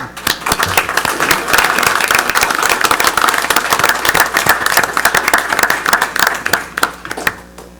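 Audience applause at a Snoqualmie city council meeting honoring a long-serving staff member, steady dense clapping from a modest crowd lasting several seconds, fairly close and loud, tapering slightly at the end.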